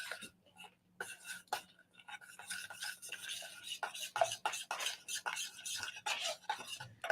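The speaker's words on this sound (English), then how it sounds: "Give this a little stir." A utensil stirs and scrapes through Korean BBQ sauce in a pot, making irregular rubbing and clinking strokes that grow busier, close up with no talking.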